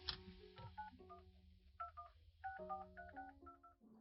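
Phone keypad tones sound as a number is entered, a quick irregular series of short electronic beeps at varied pitches, faint and close, with no voices.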